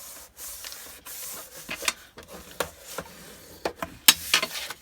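Paper is scored and folded at close range, with soft, scattered scraping and rubbing strokes and crisp crinkles coming in short, uneven bursts at a quiet level.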